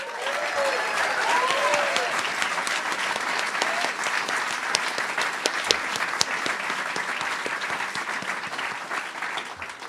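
Theatre audience at a PechaKucha night keeps up dense, continuous clapping for the presenters, a steady crowd roar with a few sharper individual claps and a faint whistle early on.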